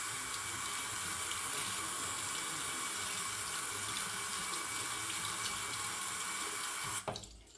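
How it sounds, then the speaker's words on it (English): A faucet runs steadily for about seven seconds, wetting a makeup beauty sponge under the stream, then shuts off abruptly with a brief splash and quiet. "let me get my beauty sponge wet"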